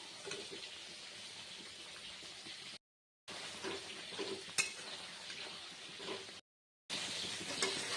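Fried potatoes go into a sizzling pan of koi fish curry with cauliflower, with a constant frying hiss and scattered scrapes and knocks of a utensil, broken by two short silent gaps.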